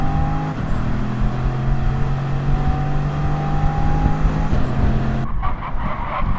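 Race car engines in a racing video game, loud and continuous: several cars drone at steady pitch with an occasional rising whine. The noise cuts off abruptly near the end, leaving only faint rumble.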